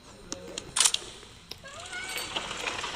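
A cat meows in the video game Baby in Yellow, a couple of short cries rising and falling over a quiet game backdrop with a few light taps, fairly close and clear.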